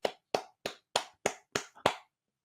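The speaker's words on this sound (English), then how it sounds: "You want me to give you a consolation clap?" Seven sharp hand claps in an even, unhurried rhythm, given as a mock consolation clap, close and dry, then silence.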